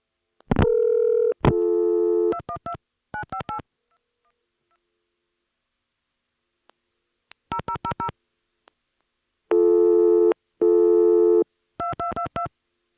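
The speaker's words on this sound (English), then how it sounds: "when we do time out to the recording, it will be with that distinctive ESS tie trunk sound" ESS tie trunk telephone line sounding a run of dialing tones and busy-signal beeps, clean steady tone bursts in uneven groups with a quiet gap in the middle, no voices.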